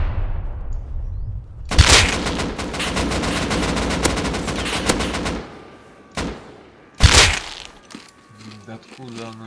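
Gunfire in the video game Rust: long bursts of rapid automatic shots, then a few separate loud cracks, fairly close, with quieter clatter and a voice talking in between.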